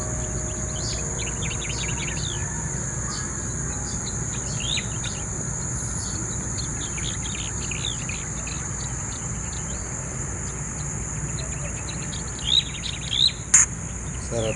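Birds chirp and call in scattered bursts over a steady, continuous hum of insects, with a few sharper chirps standing out near the end.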